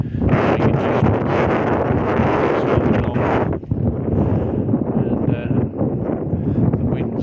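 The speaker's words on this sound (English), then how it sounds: "And the wind's not cut down unfortunately, so I can't move any more." Strong outdoor wind buffets the microphone with a loud, continuous roar that eases slightly partway through; no talk is heard.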